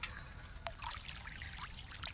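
Water flowing in the medieval video game Kingdom Come Deliverance, a soft continuous trickle and splash with small irregular drips, quiet and steady throughout.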